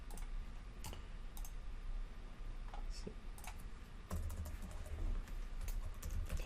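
Fingers typing code on a computer keyboard in quick, uneven bursts of faint clicks, with one slightly louder clack, over a low steady hum.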